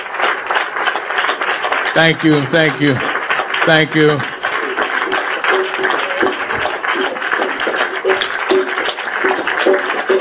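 Warm applause from a crowd for the comedian and activist, a steady, dense clatter of clapping with someone speaking briefly over it.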